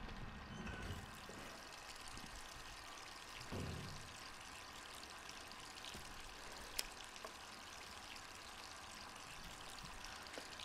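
Running water in Resident Evil 3, a steady faint pouring hiss that continues evenly throughout with a couple of small knocks along the way.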